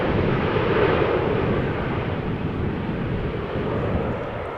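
An airplane arrives in gusty crosswind at Amsterdam Schiphol Airport, a steady broad roar of engines mixed with wind rumble, loud and continuous with no talk.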